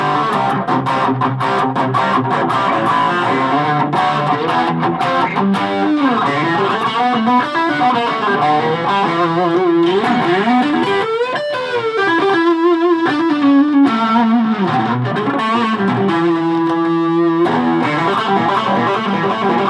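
Distorted electric guitar through the built-in distortion effect of a Roland Micro Cube amp, playing a continuous melodic line with bends and sustained notes, loud and close with no talking.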